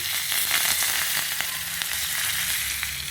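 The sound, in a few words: curry leaves sizzling in hot tempering oil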